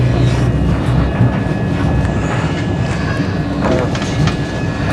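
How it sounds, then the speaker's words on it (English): A train rumbles past near Faversham in Kent, England, a steady, loud low roar of rail traffic filling the whole stretch without a break, with faint clatter on top. "Have you seen the train?"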